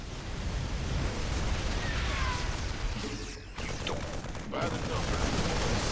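Auto turrets firing in StarCraft II make a dense, continuous roar of rapid shots and blasts that fills the whole stretch. Loudness stays nearly constant, with a brief dip just past the midpoint.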